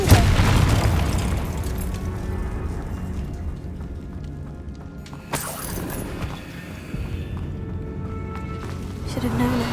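A Confringo fire spell exploding in the video game Hogwarts Legacy, a single sharp blast midway through amid rumbling game effects, with a person talking over it.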